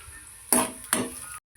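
Ginger and curry leaves drop into a hot pan for pumpkin poriyal, two quick bursts of sizzle and stirring scrape, close, each fading fast before a brief silence.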